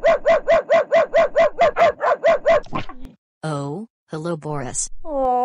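A dog barks in a quick, regular run of about a dozen close, loud barks, then whimpers briefly before people start talking.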